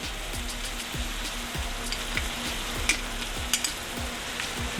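Ground beef frying in a pan with barbecue sauce over a low flame, a steady close sizzle with soft periodic stirring scrapes and occasional pops, no voices.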